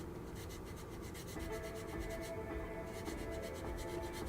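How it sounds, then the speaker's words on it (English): A blade scrapes steadily across the surface of a plastic F-22 Raptor scale model to prepare it for sanding, giving a close, continuous raspy rubbing with soft repeated strokes and no voices. "I'm just going to go scrape away a little bit here like this to give my sandpaper a little bit"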